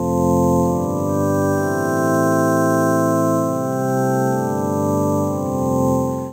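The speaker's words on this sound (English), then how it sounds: "I'm using the lo-fi module, and it sounds like this." A sustained synth pad plays shifting chords through a gritty, bit-reduced lo-fi filter, with a wavering, slightly warbly texture throughout.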